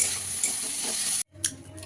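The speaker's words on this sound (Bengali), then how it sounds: "টমেটোটা দিয়ে একটু ভেজে নেবো" Tomato pieces frying in hot oil in a kadai for butter chicken, a steady close sizzle with stirring that cuts out briefly, then resumes more faintly with light scraping.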